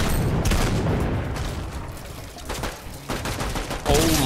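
Video game gunfire rattles off in scattered bursts of sharp cracks and rapid volleys, loud and close, within a busy layer of game sound.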